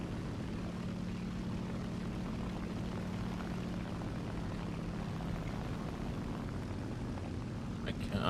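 A steady propeller aircraft engine drones at a constant low pitch in War Thunder, continuous and fairly even throughout, with a faint voice underneath.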